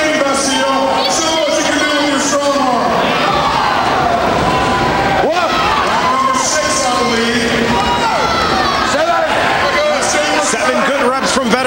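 A strongman event crowd at the Arnold Strongman Classic cheers loudly through a dumbbell press attempt, with sustained shouting, whoops and excited babble rising and falling, and swells of roaring near the middle and end.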